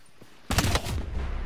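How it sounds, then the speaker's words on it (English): A burst of close, loud gunfire from a revolver in the video game Call of Duty Black Ops 4, a sudden harsh blast followed by a rattling, sustained noisy tail with several quick shots. "That's a revolver. I got shot by a revolver."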